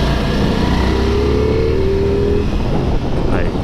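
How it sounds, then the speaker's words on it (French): A motorcycle engine in sport mode accelerates hard, a loud, steady roar with a rising tone that holds close to the microphone throughout, as if recorded on board. "et quand on remet du gaz, on remet vraiment du gaz."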